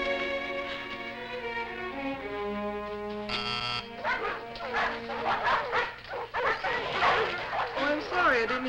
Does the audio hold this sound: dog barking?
yes